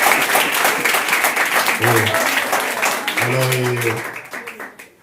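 A church congregation applauds and cheers in praise of God, a dense, steady wash of clapping with singing or chanted voices rising over it, loud and close before thinning out toward the end.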